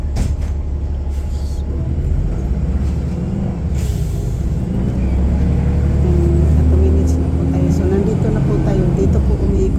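A bus turns around on First Avenue in San Mateo, California, a low rumbling engine drone that swells toward the end, heard close from inside with a person talking over it.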